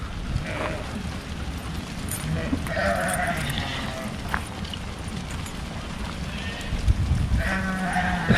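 Several sheep from a flock surrounding a car in Germany bleat at intervals, some near and some farther off, over a steady rumble of wind and engine noise.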